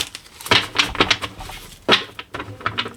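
A Kemetic Tarot card deck is shuffled up close, giving bursts of crisp riffling and flicking card sounds in uneven clusters with short pauses and no speech.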